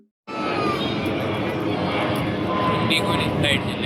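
An IndiGo airliner passes overhead with a loud, steady broadband engine roar that starts abruptly and holds throughout, with a voice talking over it.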